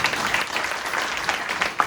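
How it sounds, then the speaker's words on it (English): A church congregation claps together in praise during a Sunday morning service, a dense, steady burst of applause filling the room for about two seconds. "Can somebody give the Lord a clap of praise this morning?"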